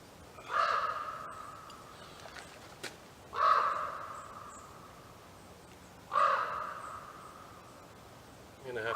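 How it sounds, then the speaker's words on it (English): Crows caw three times in the outdoors, each a loud, harsh single call spaced about three seconds apart, over faint background noise and no talk. "There's some pretty big sounding birds around here right now."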